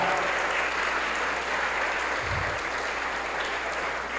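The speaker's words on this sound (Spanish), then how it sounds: "dale un fuerte aplauso al Rey" Congregation applauding for the King during a Pentecostal church service, a steady broad wash of clapping from a large crowd filling the room without pause.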